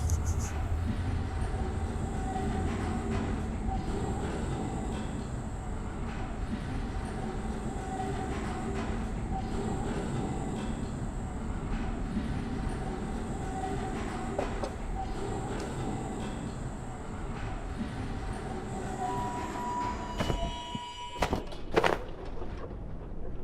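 The tram in the video game Abiotic Factor runs with a continuous low rumble and rolling rail noise, a steady mechanical drone with a high whine that ends in a burst of clanks and a squeal near the end.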